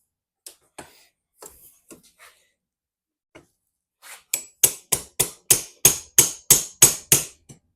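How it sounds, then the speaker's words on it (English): A small hammer tapping on VW Bug seat upholstery parts during a seat reinstall: a few scattered light taps, then a steady run of about a dozen louder, evenly spaced knocks close by. "I'm going to try to get maybe a little hammer"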